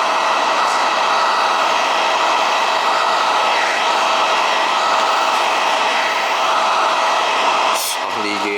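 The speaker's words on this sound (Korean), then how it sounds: "지금 옆에 바로 드라이기가 있어서 제 목소리 잘 들리려나?" A hair dryer runs close by at a barber's station during hair styling, giving a loud, steady whooshing roar that holds unbroken almost to the end before cutting out.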